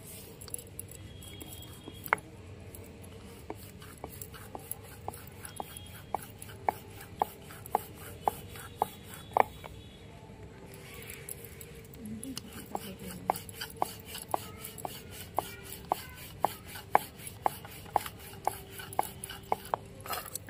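Small flour-dusted dough balls for fried palm-fruit pithe are rolled out on a board, giving soft scraping and light tapping with frequent sharp clicks from the rolling pin, steady and close with faint background noise.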